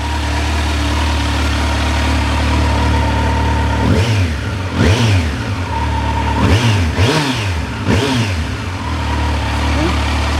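A 2020 Kawasaki Z900 ABS motorcycle engine, already warm, idles close by with a steady low rumble, punctuated by several quick throttle blips that rise and fall before settling back to idle.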